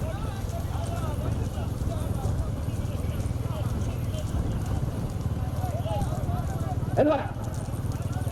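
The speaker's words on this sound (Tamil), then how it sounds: "நடைபெற்றுக் கொண்டிருக்கின்ற சிறிய மாட்டு வண்டி பந்தயம்" Racing bulls pulling small bullock carts in a village bullock cart race, their hooves clip-clopping in a fast steady rhythm beneath loud continuous commentary, with a brief sharp clatter near the end.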